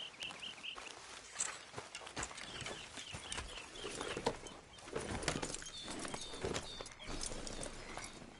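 Horse hooves clip-clop at a steady walking pace in the video game Red Dead Redemption 2, with occasional birdsong chirping in the background.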